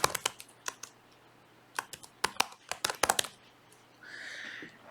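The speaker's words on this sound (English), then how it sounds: "type your name." Keys clack on a computer keyboard as a name is typed, in a few short bursts of close, crisp taps with gaps between them, and a soft hiss rises near the end.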